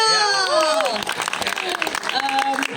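Audience at a film press conference and screening applauding, mixed with excited shouts and voices that carry over the clapping throughout a short burst.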